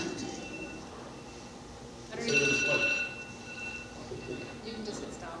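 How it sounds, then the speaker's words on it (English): A mobile phone rings for about a second during a community candidate forum, a bright electronic ringtone rising over a quiet room before people resume talking. "sorry, that was my phone."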